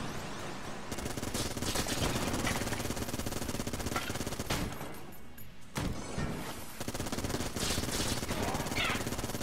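The Yari launcher firing in Enter the Gungeon, loud rapid automatic bursts in long sustained streams with two brief gaps and crashing impacts mixed in.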